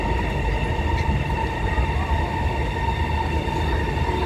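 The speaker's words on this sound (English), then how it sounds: "Oh, there goes the train from platform 3" A Transperth train pulls out of Midland Station platform 3, a steady rolling rumble with a sustained whine, constant and fairly near.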